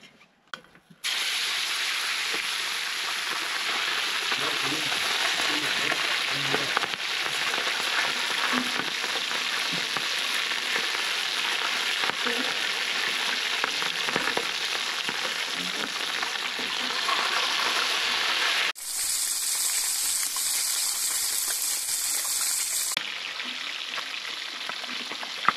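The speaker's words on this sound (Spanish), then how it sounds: "las vamos a llevar ya al aceite porque ya está listo para dorarse" Tilapia (mojarras) sizzling in hot oil, a loud steady crackling fry that runs without pause, with a brief shift in texture near the end as the fish settle in the pan.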